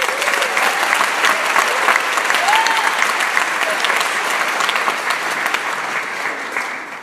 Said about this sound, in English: If we could give them one round of applause.